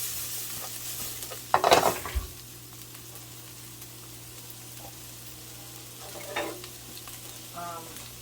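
Peppers cook in a pan with a soft, steady sizzle, broken by a sharp clatter of utensil against pan early on and a quieter stir later.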